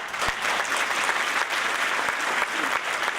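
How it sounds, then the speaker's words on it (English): Steady audience applause at an International Women's Day breakfast, a dense wash of many hands clapping at an even level throughout, with no one speaking. "Feel free to applaud"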